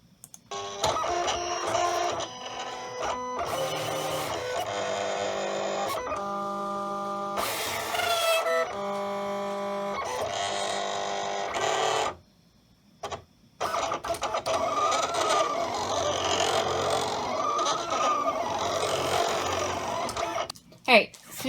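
A Silhouette Cameo 4 cutting machine reads registration marks and cuts foil sticker sheets, giving a long run of whirring, buzzing motor passes and stepping tones with a short pause partway, close and steady.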